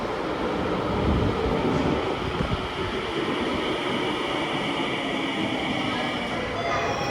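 A commuter train in Japan rolling along at night, a steady loud rumble of wheels and car noise filling the whole stretch without a break, some faint voice mixed in underneath.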